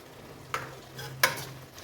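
Kerala-style beef roast tossed with coarsely crushed black pepper in a pan: two distinct stirring scrapes about two-thirds of a second apart over a faint, steady sizzle, close but quiet.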